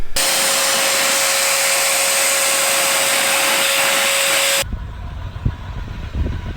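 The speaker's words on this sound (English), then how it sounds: "To put our off-season clothes in these vacuum seal bags for storage." A vacuum cleaner hose sucks the air out of vacuum seal storage bags packed with off-season clothes, a loud steady whining roar with a fixed tone that cuts off abruptly, followed by rustling plastic and handling noises.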